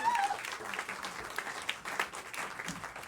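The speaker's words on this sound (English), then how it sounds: "Please, a big round of applause for Michael Lancer right now." Applause from a small comedy club crowd welcoming comedian Michael Lancer, scattered, uneven clapping with some louder individual claps and a few voices mixed in.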